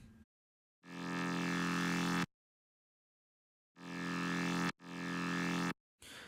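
Soloed synth bass top layer from a distorted white-noise bass patch in Reason 8, playing three sustained notes with a strange, buzzy, harmonically rich tone; each note swells in and cuts off sharply, with silent gaps between and no talking.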